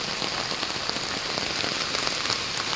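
Steady rain falls outdoors near a bamboo bridge, a dense, even patter on surfaces close by, with no voices.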